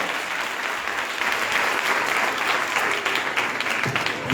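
Audience at a church vacation Bible school session clapping loudly, a dense, sustained roar of applause with no pauses.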